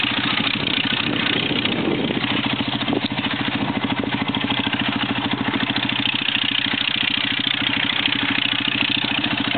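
A tractor engine chugs steadily at a low, throbbing idle, loud and continuous throughout with a rough mechanical clatter.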